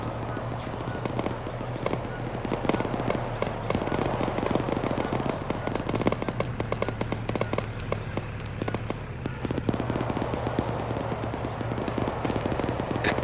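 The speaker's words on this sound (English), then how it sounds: "Shots are getting over you, sir." Dense gunfire in the military game Arma during Operation Black Gold, constant overlapping rifle and machine-gun shots crackling without pause over a low engine-like drone, with radio voices faintly talking underneath.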